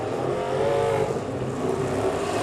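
Stock car engines roar at a speedway during a night race meeting in Gisborne, New Zealand, a steady, dense motor drone at moderate distance with no pauses, as cars run on the track.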